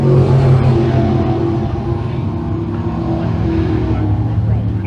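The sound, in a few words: crate sprint cars racing on speedway track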